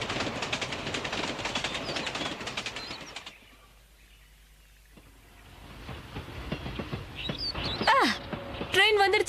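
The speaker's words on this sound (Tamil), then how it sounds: "ட்ரெயின் வந்துருச்சு" A cartoon train rumbles and clatters loudly, fades to a quiet lull, then builds again with squealing brakes and metallic screeches as it pulls in.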